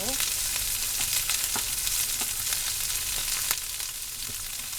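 Diced yellow summer squash sizzles steadily in a frying pan for a Mexican squash side dish, with a few short scraping stirs of a utensil cutting through the constant frying hiss.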